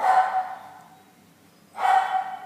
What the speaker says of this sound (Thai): ชงหมิงเห่าอะลูก